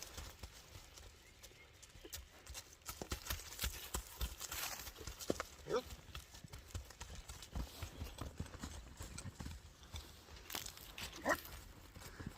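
A Kyrgyz horse running, its hooves clip-clopping in a quick irregular rhythm over a rough, noisy outdoor background, moderately close, with no talk.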